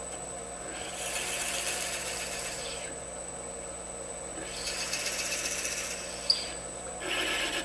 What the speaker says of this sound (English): I always drill the base of a box out with a handheld drill